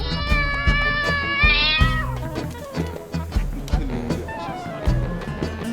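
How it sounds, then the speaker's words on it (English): A cat meowing on an Istanbul street, several short repeated mews over a busy mix of background music and ambient noise, fairly close. "Now, Istanbul is full of cats everywhere."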